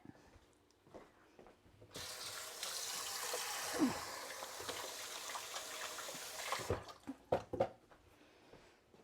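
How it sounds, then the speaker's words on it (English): Running tap water rinsing hands sticky with chopped onion, a steady close splash that starts after a quiet moment and lasts about five seconds, followed by drips, handling clatter and soft movement. "I'm going to rinse my hands now because they're quite sticky with the onion."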